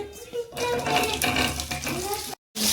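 Boiled liquid is poured in a continuous splashing stream into a pan, followed by a brief silence and a short burst of sizzle.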